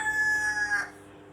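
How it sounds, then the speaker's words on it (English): A rooster crows once, a single drawn-out call that rises and then trails off, fairly close and heard on its own with no talking. "You see, the chicken is even worried. Do you hear the stress in his throat?"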